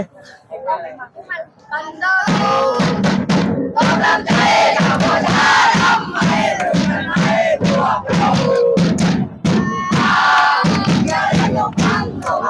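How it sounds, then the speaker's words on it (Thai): A school crowd of students cheers in unison, loud rhythmic chanting and shouted bursts that start after a brief quiet moment and carry on continuously with pulsing beats. "มาฟังเสียงเชียร์ของกันทะลมนะ"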